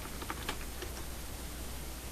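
Soft, quick keystrokes tap on a computer keyboard in a short burst, then continue as a faint, steady clatter with no speech.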